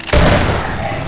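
A single shotgun blast in Half-Life 2: a sharp, loud, close boom with a broad, decaying rumble afterward.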